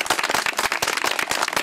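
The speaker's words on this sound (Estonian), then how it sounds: "Nii et no ülikõva aplaus Lauri Tammele" Brisk, loud applause from an outdoor crowd at a woodworking masters' event in Tsooru, dense clapping that is close and unbroken throughout.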